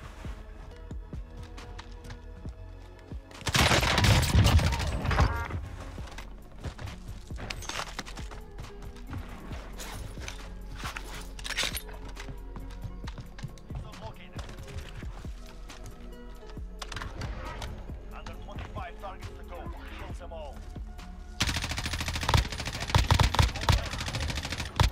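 Gunfire in the Warzone Zombie Royale game mode: short bursts of rapid shots, with two louder dense volleys, between stretches of clicky game noise and occasional talk.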